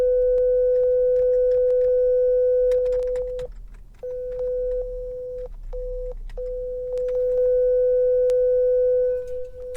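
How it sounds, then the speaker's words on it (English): A 500 Hz sine wave test tone, loud and pure, broken by several brief gaps and switched on and off, with faint clicks and no voices. "500 Hz sine wave."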